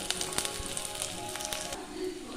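Garlic and small shallots dropped into hot oil for a Kerala-style murrel fish curry, giving a steady crackling sizzle with dense spitting pops throughout, close and moderately loud, with no voices.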